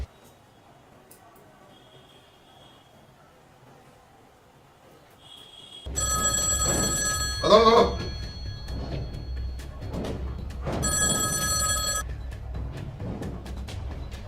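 A telephone rings in repeated electronic bursts close by after a quiet start, with someone speaking briefly over the ringing.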